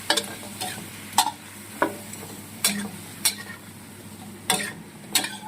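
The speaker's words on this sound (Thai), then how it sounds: "คั่วกุ้งให้สุกไม่ต้องใส่น้ำนะคะ" Shrimp stir-fried without water in a pan after garlic has been fried golden, a steady soft sizzle broken by sharp, irregular scrapes and clinks of a spatula against the pan, close by and with no one talking.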